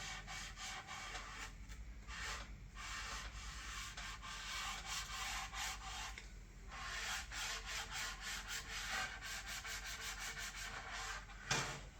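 Finishing oil worked by hand into spalted beech wood, a close run of rhythmic scrubbing and rubbing strokes with brief pauses, a soft dry swishing that carries on steadily with no talking.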